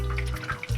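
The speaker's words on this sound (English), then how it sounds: "there's a lot of dripping" Water drips and trickles steadily down a downspout outdoors, a continuous splashy flow heard close and fairly loud for under a second.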